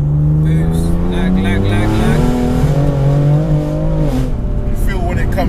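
A BMW 335d accelerating hard, its engine drone rising and holding loud and close from inside the car, with occupants' voices over it.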